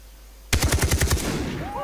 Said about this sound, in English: I'm shooting some players.